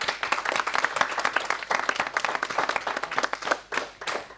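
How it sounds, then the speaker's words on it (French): An audience applauds a winning team of pupils at a school event, with steady, dense clapping that fills the whole stretch and stays loud and close throughout. "Bravo à vous, on peut les applaudir je pense."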